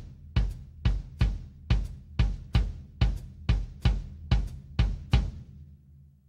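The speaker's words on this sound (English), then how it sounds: "First, bass drum." Bass drum struck in steady quarter notes, twelve deep booming thumps evenly spaced, close and alone, ringing out briefly at the end.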